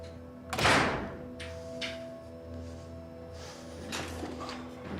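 A car door thuds shut once, near and fairly loud, in a quiet interior before a hospital drive; a couple of faint softer knocks and shuffles follow.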